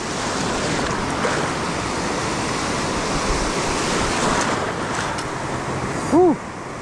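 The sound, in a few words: ocean waves crashing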